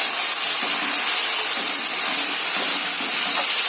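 Chili chicken sauce hitting a hot pan, a steady loud hissing sizzle that holds evenly for several seconds with no voices over it.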